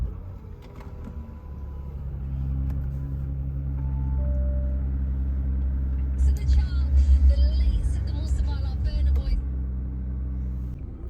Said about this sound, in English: should we crack on and start this car up before we lose any interest